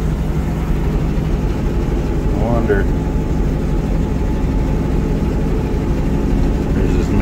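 A 1980 Ford LN700 truck's V8 engine idles steadily with a bad exhaust leak, giving a loud, continuous low rumble throughout while someone speaks briefly over it.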